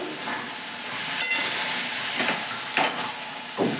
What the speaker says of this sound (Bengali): ম্যারিনেট করা চিকেনগুলো দিয়ে দিলাম, দিয়ে ভালো করে কষবো।